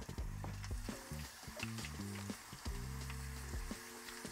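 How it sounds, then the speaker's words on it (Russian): Thin plantain strips frying in hot oil, a steady close sizzle and crackle running throughout with soft clinks of a utensil in the pan. "Потом я буду отправлять наши полосочки, вот эти. Их вообще очень быстро нужно обжарить."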